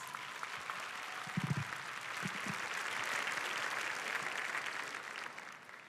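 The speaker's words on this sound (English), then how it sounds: "can you give them a round of applause?" Audience applause at a high school commencement ceremony for the graduates' families, broad steady clapping from a large crowd with a few low thumps early on, heard from some distance.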